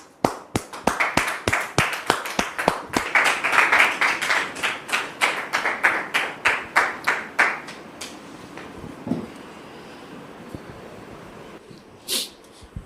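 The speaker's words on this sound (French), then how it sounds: "Merci de les recevoir sous vos applaudissements." Studio audience applause welcoming guests, a burst of rhythmic, evenly spaced claps that builds, holds for several seconds and then thins out and stops.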